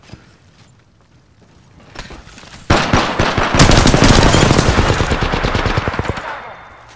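Automatic gunfire in the shooter Apex Legends, a loud rapid burst of shots lasting a few seconds after a quieter lead-in, close and dominant with no voices.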